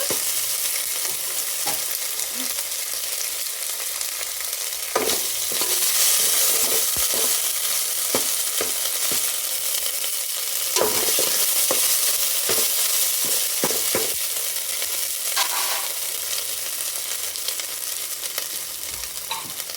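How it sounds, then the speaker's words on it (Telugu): Rice for coconut rice fries in a pan with a steady close sizzle, broken by repeated scraping and clattering stirs of a utensil against the pan. "ఇదే టేస్ట్ వచ్చేస్తుంది రైస్కి. కొంచెం త్వరగా వేగాలన్నమాట."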